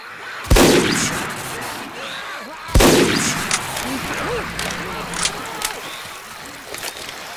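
A bio bomb exploding amid zombie-hunting gunfire in Left 4 Dead 2, two loud blasts a couple of seconds apart with rumbling decays, followed by a churning layer of game noise and scattered shots.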